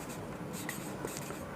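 A teacher writing on a board during a math class, soft scratchy strokes in quick short bursts over a quiet room hum.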